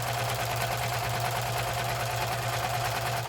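Sewing machine stitching fabric ends together, a loud continuous rapid mechanical chatter running steadily throughout, close by and alone.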